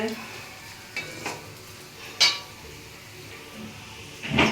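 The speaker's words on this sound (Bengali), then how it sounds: "আর এখানে চিকেনটা একটু ম্যারিনেশন করে রেখে দিয়েছিলাম আগে থেকে, ওটা ফ্রাই করছি" Marinated chicken frying in a pan for chicken chow mein, with a soft steady sizzle under occasional stirring clatter and a few sharper scrapes and clinks of a utensil against the pan.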